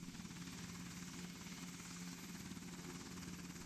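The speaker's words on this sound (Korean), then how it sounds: "개발한 최초의 국산 헬기 수리온." A KAI Surion Korean military utility helicopter thrums steadily with rhythmic rotor chop and engine whine, loud and continuous throughout with no talking.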